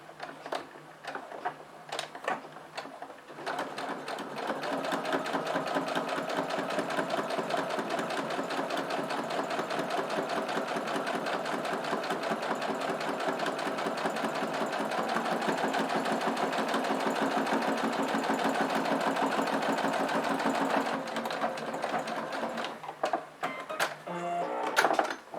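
A sewing machine runs steadily for about fifteen seconds, stitching fabric with a long 3.5 stitch near the edge while making a Halloween pyramid pouch, with short stops and handling noises before and after the continuous run.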